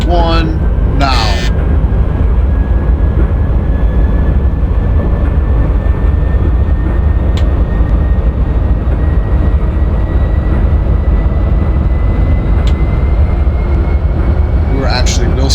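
A Santa Fe Warbonnet locomotive accelerates hard across the Sonoran Desert with wheel slip, producing a loud, constant roaring rumble and a rising whine throughout, with brief tonal bursts near the start and end and no voices.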